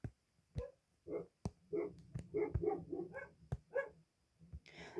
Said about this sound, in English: I'm sorry if you hear my dogs, because they are idiots sometimes